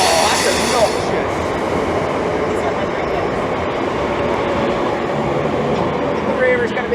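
Train rolling through London Bridge station, a continuous rumbling roar of wheels and carriages with faint squeals, close and fairly loud.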